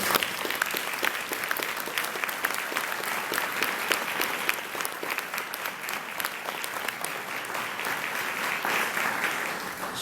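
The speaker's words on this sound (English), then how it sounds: "how about a round of applause?" Old Mission staff members, standing at a community meeting, receive a sustained round of applause from the room, a thick even patter of many hands clapping nearby for about ten seconds without a break.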